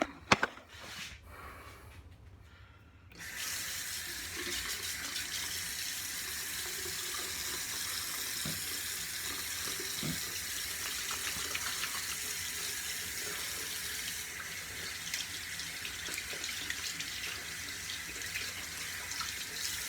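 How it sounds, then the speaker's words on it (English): A bathroom tap runs as hands are washed beneath it, a few faint knocks first, then a steady close water rush with small splashy fluctuations. "All right, so let's wash our hands."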